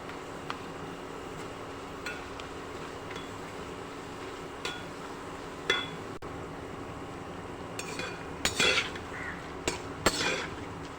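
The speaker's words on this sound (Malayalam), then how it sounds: "ഇഞ്ചിയെല്ലാം ബ്രൗൺ നിറമായി വരുന്നുണ്ട് ഒരു രണ്ട് മിനിറ്റ് കൂടി ഇളക്കി കൊടുത്തിട്ട് നമുക്കിത് ഒരു ഉണക്ക പാത്രത്തിൽ കോരി മാറ്റാം" Browned ginger stirred in oil in a pan, with scattered metallic clinks and scrapes of a spoon against the pan over a steady low background hiss.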